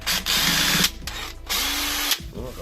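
A power drill fitted with a bent bit whirs in bursts while repairing a horsebox, high-pitched motor runs broken by short stops and a winding-down whine at the end.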